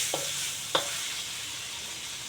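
Garlic sprouts with yellow beancurd and ham stir-fry in a wok, giving a steady, fairly quiet sizzling hiss broken by two brief utensil clinks near the start.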